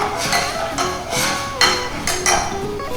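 Apples simmer in a pot while a utensil stirs and taps against the metal, giving repeated clinks and knocks roughly every half second over a steady bubbling, sizzling bed, close and moderately loud.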